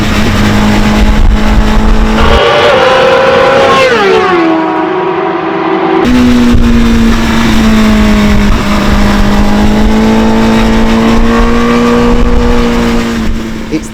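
A 2020 Honda CBR1000RR-R Fireblade SP superbike engine revving loud and close, climbing sharply in pitch, dropping back, then holding a rough, steady idle-like drone for several seconds.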